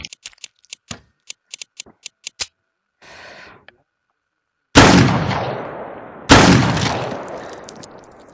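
Gunfire in the video game Beyond Sandbox: a rapid string of light clicks and a short rattle, then two loud, booming shots about a second and a half apart, each with a long decaying tail.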